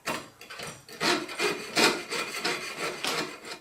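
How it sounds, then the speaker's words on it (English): A Potter USA jeweler's saw with a lubricated blade cuts a small tab off a metal cuff pancake die, giving close, steady rasping strokes in an even back-and-forth rhythm. "I sawed that off with my Potter USA's jeweler saw."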